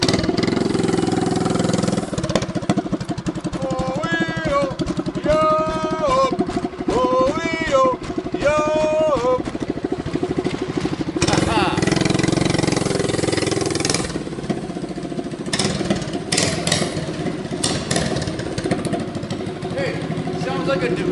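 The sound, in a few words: Bad-Dog 212cc hot rod engine running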